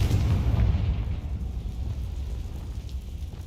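A Confringo fire spell explodes in the video game Hogwarts Legacy, giving a loud, deep, sustained rumbling roar with crackling texture that gradually eases off.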